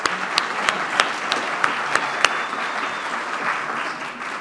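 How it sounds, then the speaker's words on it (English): Steady applause from a Rotary club meeting audience welcoming visitors, dense and moderately loud, with sharper individual claps standing out at a regular pace and the clapping fading gradually toward the end. "Let's give a round of applause for our visitors."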